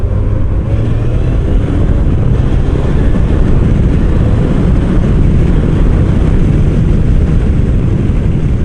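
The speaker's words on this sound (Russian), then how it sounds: "Сейчас интенсивное ускорение." A Honda CBF1000 motorcycle accelerates hard through the gears, heard as a loud, close, unbroken roar of engine and rushing wind with no voices.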